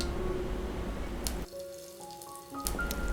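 Mustard seeds and asafoetida hit hot oil for a tempering. A steady frying hiss runs for over a second, drops away, then returns with sharp crackles and pops at the end.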